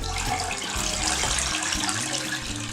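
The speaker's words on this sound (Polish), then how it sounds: "Wycisnę teraz jedną gąbkę." Water splashes and pours steadily as an aquarium filter sponge is squeezed out under running tap water, close and continuous.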